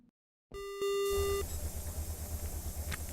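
Electronic beeps in the space game Ostranauts after leaving the transit station: a sustained steady tone with a short blip, then a continuous low hum beneath faint bleeps.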